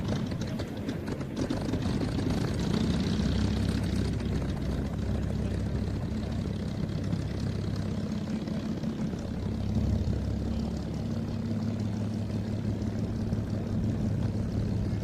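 A restored P-51 Mustang propeller aircraft runs up at a Duxford flying day. A continuous droning engine hum holds steady and fairly loud throughout, with no talk over it.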